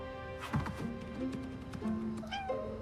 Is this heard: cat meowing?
yes